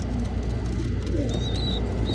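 Pigeons coo softly and steadily over a continuous low hum, close by in a loft where squabs are being ringed, with a faint chirp near the end.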